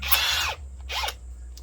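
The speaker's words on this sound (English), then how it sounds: "put in a drill, make sure you're straight." A power drill bores a hole in a banjo headstock for a geared fifth-string peg. There are two close bursts of whining drilling, the first longer and the second shorter with a pitch sweep, separated by a brief pause.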